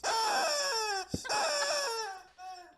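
A chicken sound effect squawks in two long, strained, falling calls, broken by a short thump, then a brief final squawk.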